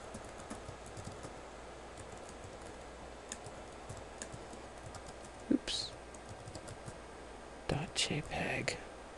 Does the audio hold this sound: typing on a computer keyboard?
yes